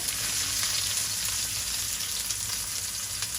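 Onion fries in a pan with a loud, dense, steady sizzle that holds unbroken for a few seconds, close by and with no talking.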